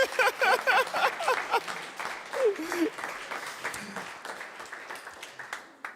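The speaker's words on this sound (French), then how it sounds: "Est-ce qu'on peut commencer déjà à l'acclamer?" A crowd at a French-speaking church gathering applauds a birthday guest, with dense clapping that keeps going across the whole stretch while a voice speaks over it and a few cheers rise above the noise.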